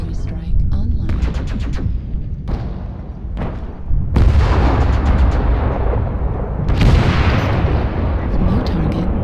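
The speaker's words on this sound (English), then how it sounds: "Artillery strike online." An artillery strike in the video game MechWarrior Online, a series of heavy booming impacts and rumbling blasts arriving in several bursts, loud and close, with some game voice audible.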